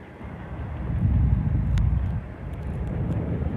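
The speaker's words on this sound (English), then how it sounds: "You guys may not even be able to hear me because of the wind" Strong wind roars and buffets the microphone while parasailing high above the beach at Gulf Shores, Alabama, a loud, continuous low rumble with gusty swells and no talking.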